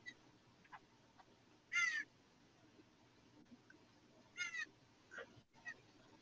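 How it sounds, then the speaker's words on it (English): Distant bird calls come in a few brief, scattered bursts over faint background noise, quiet and spaced apart. "I hear birds in the background."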